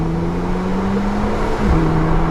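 A Porsche 911 Turbo engine drones close and loud in a steady low tone that dips briefly and then holds again. No voices are heard.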